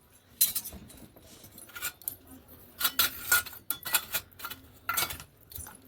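Steel dishes and cutlery clink and clatter in short irregular bursts, close and fairly loud, as plates are gathered for a home lunch.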